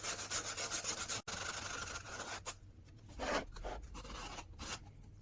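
Sandpaper rubbing along a stained glass frame, a close, steady back-and-forth rasp with short pauses and quicker strokes later, no talking.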